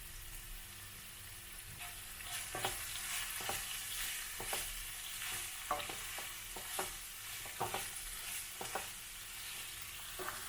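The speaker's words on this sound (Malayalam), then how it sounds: "ഉപ്പും ചേർത്ത് നമുക്കൊന്ന് ഇളക്കിയെടുക്കാം." Sliced onion and cabbage with salt are stirred in a hot pan, giving a steady sizzling fry broken by regular scraping strokes of the spoon, close and moderately loud with no talking.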